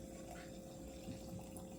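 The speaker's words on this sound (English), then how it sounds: "get you some nice warm water and put it in there" Warm water flows into a container as a quiet, steady watery rush with a low humming undertone, continuous and without voices.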